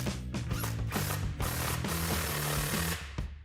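A 13mm socket on a ratchet tightens an exhaust clamp on a Jeep Gladiator JT, giving a steady run of rapid, close ratcheting clicks that pause briefly between strokes.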